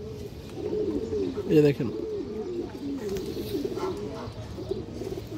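A female domestic pigeon of good bloodline coos in repeated low, rolling phrases close by, while someone speaks briefly over it.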